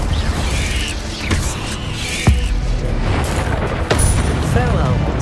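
In the Hogwarts Legacy video game, Incendio fire spells are cast in combat, producing booming, whooshing magical blasts amid layered game effects and loud voices throughout.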